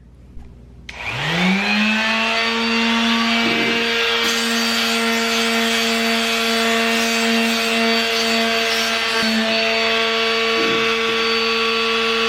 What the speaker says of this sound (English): we are gonna be using this Ryobi mouse sander